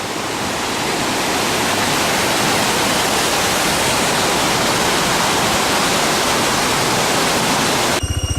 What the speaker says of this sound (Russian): Вода с водопада далее течет